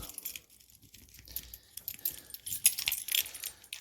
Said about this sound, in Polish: A mam kluczyk, mam kluczyk do zasilania.